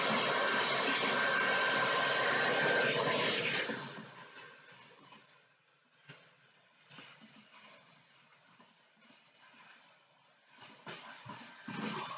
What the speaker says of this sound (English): I'm just going to vacuum that up a little bit.